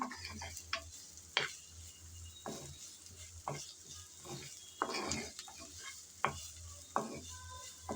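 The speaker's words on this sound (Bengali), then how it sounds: "এখন নেড়ে চেড়ে হালকা ব্রাউন কালার করে ভেজে নেব।" Onions frying in oil as a spatula stirs them in a pan for an okra dish, with steady soft sizzling broken by sharp scraping clicks and taps at an irregular pace, close and fairly quiet, no talk.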